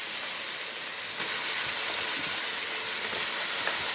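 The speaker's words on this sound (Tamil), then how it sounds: "இப்போ கழுவி வச்சுக்கிற நம்ம சிக்கன் போட்டுக்கலாம்." Washed chicken pieces dropped into a hot pan for a Tamil chicken and potato curry, a loud continuous bright sizzle and hiss that swells after a second and keeps frying steadily, with no talk.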